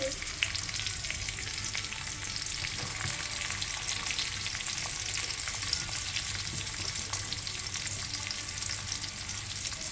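Chicken with onion and garlic paste fries in a pan with a dense, continuous sizzle and crackle at an even, fairly loud level, heard up close without any speech.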